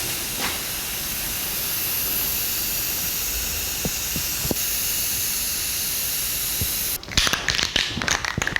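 Self-etching primer sprays steadily from a can onto the rock slider trim of a 1984 Jeep CJ7, a close continuous hiss with brief pauses and a few clicks, breaking into sputtering bursts near the end.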